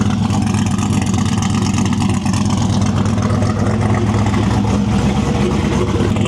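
Chevrolet C10 truck with the exhaust exiting at the fender, engine running with a loud, rough, continuous rumble at a show, close by and steady throughout.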